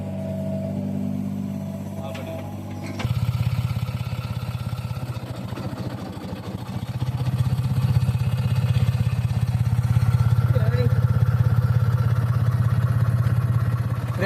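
A Tata Hitachi 33U excavator engine runs steadily as a heavy low drone, rising into a louder rev partway through while unloading into a tractor, with people talking nearby.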